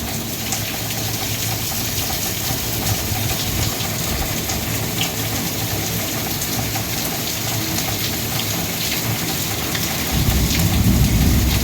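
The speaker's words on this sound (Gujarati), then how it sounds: "જોરદાર વરસાદ ચાલુ છે" Heavy rain pours steadily over a village. It makes a dense, continuous hiss, and a deeper rumble of thunder swells near the end. No voices are heard.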